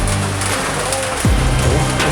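Steady heavy rain during the rainy season in Costa Rica, with a broad hiss, loud and close, plus a low rumble and a brief thud partway through.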